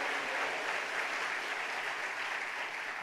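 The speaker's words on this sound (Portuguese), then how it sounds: "Aplauda Jesus, dê glórias a Jesus." A church congregation claps together in sustained, dense applause that holds steady and fairly loud throughout, with no voices rising above it.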